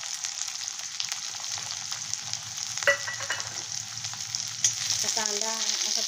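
Onion frying with cumin seeds in hot oil in a kadhai for a Maharashtrian potato-onion bhaji, a steady close sizzle with light stirring scrapes and a few soft clinks.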